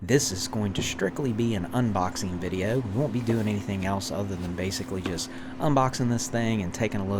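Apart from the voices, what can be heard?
None of the usual background noises is heard.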